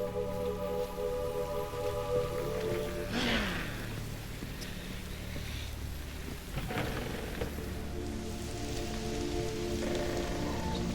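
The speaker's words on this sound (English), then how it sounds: "Looks like rain." Steady rain patters continuously with a low thunder rumble in The Witcher 3: Wild Hunt, under a sustained ambient musical drone and a few soft swishing effects.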